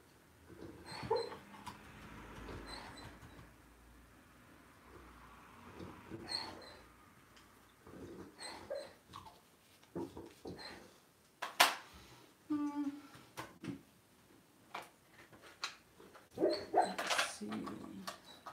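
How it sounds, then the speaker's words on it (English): A sleeping dog whimpers and makes soft muffled yips while dreaming. The sounds come in scattered, irregular bursts over faint background noise, fairly quiet and somewhat distant. "You can hear the dog"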